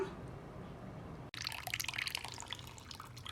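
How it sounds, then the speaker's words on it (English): Hibiscus zobo drink draining through a sieve, a soft steady trickle and patter of liquid that begins abruptly and continues, close and fairly quiet. "Just sieve it and allow the water to drain."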